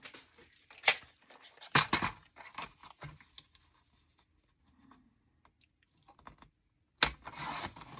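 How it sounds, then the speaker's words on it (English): Sharp paper snips from scissors trimming a paper library pocket flap, a few crisp cuts near the start and a burst near the end, with quiet handling between. "I'm just going to snip a little bit off of that."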